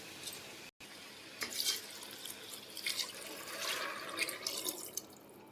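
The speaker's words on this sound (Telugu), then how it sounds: "ఇప్పుడు దీనిలోకి వాటర్ యాడ్ చేయండి." Water poured from a glass into rice in a pot while making green pulao, four glasses for two of rice: a steady splashing, trickling flow with a few louder gushes, running close by for several seconds with one short gap near the start.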